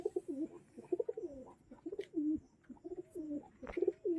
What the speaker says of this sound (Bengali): এই যে বন্ধুরা, একটা কবুতর শখ করুন।